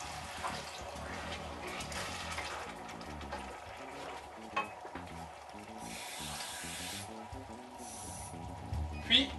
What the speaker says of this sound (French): On va rajouter un verre d'eau.